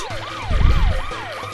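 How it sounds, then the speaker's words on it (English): A wailing siren from the Paper Mario: The Thousand-Year Door video game rises and falls in repeated sweeps, loud and continuous, with a low rumbling swell beneath it in the middle. "I know it's really annoying with the siren"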